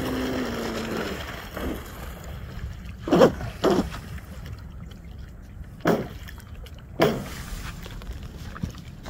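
A radio-controlled Proboat Blackjack 42 speed boat's motor hums steadily over water at quarter throttle, with a few splashy bursts as the boat skims and bounces, heard from a moderate distance.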